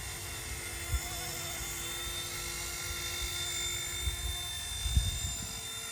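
An RC Era C189 MD500 remote-control helicopter in flight on a windy day, producing a loud, steady high-pitched whine with a low rotor buzz and occasional wind bumps, no speech.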